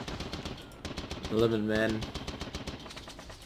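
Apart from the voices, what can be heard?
machine gun fire in World War I strategy video game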